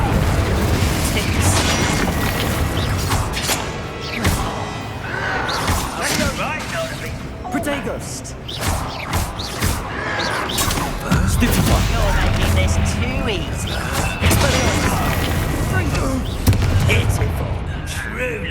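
Bombarda spell explosions in the video game Hogwarts Legacy, with loud repeated blasts, crashes and smashing hits filling a chaotic magical fight, while voices shout over the combat.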